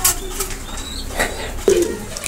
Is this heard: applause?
no